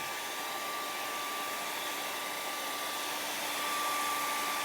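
A hair dryer blows steadily on wet acrylic paint on a palette, a continuous close whooshing roar with a faint whine that holds even for several seconds, growing slightly louder toward the end.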